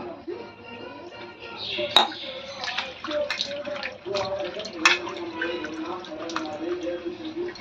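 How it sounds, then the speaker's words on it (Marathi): A new unglazed clay pot being rinsed with water in a kitchen, with steady trickling and splashing, occasional sharp clinks of the pot against a hard surface, and soft rubbing throughout. "तर आता मी हे स्वच्छ धुतले"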